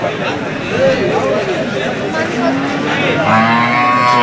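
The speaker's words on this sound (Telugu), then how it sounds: "భారీ ఎద్దులే ఎద్దులు" Bulls low repeatedly, deep drawn-out moos close by, over a busy crowd murmuring and talking in the background at the Bangarapet bull market.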